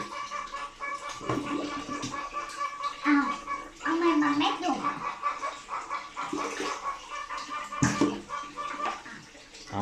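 A baby's milk bottle is scrubbed and rinsed under running water, with sloshing and gurgling splashes that come in uneven bursts while a voice talks over the washing.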